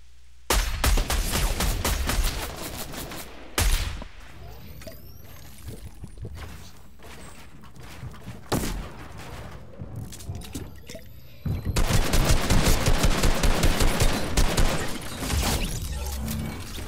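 Gunfire in a Fortnite-style shooter game, including an automatic sniper rifle, sharp repeated shots in bursts with a dense rapid volley near the end, with brief talk.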